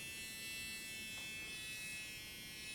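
A Xiaomi ear cleaning tool runs its suction motor, giving a steady, close, high-pitched electric whine and buzz that holds evenly from start to finish with no talking.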